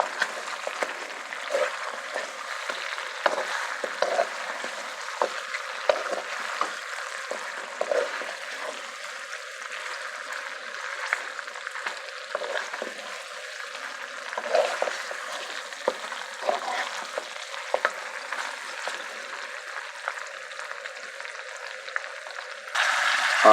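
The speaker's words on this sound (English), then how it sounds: "Want to turn the heat up high now for the last process of this stir fry" BBQ spare ribs stir-fry in a pan over high heat, giving a steady, dense sizzle with scraping stirs throughout and no talk.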